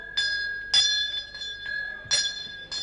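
A hand bell rings several times on a Pakistani comedy stage, its bright metallic strikes in an uneven rhythm, close and clear.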